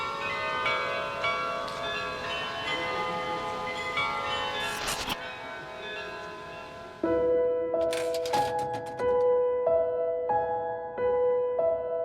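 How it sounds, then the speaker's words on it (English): The glockenspiel tower in Salzburg, Austria, with its 35 bells, rings out a bright, ringing melody of sustained tones, alone with no voices, then shifts to a clearer sequence of struck notes. "tower famous for its glockenspiel, 35 different bells that currently play approximately 40 different melodies"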